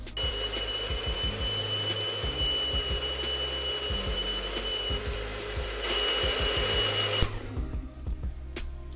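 A Bissell SpotClean ProHeat carpet cleaner extracts a black and brown coffee stain from a car's upholstery, its steady motor whine and suction hiss running continuously with small gurgling pulses, rising briefly in pitch near the end.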